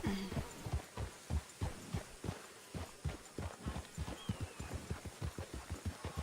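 Horse hooves approach at a ranch, a steady run of clip-clop footfalls that carry through the whole stretch at close, even loudness.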